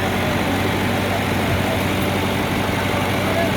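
A diesel tractor engine idles steadily up close, a loud continuous low rumble filling the whole moment, heard during a trip to a jungle restaurant in Mexico.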